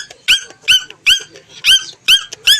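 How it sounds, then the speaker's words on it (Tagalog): A dog gives six sharp, squeaky, high-pitched yelps or barks in an even rhythm, loud and close, with no talk. "Yung aso ko nakatawag"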